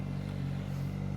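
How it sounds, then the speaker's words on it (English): An SRK 900 RR motorcycle engine runs steadily with launch control off, a low, even, droning hum held close and fairly quiet for a short moment, with no one speaking. "Let's listen to the engine, if you don't mind, of course."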